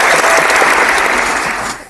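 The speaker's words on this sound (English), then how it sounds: "hit them claps on them" Dense burst of applause from many hands, loud and continuous, tapering off slightly at the end.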